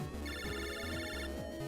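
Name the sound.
phone call ringtone in Mega Man Battle Network 3 video game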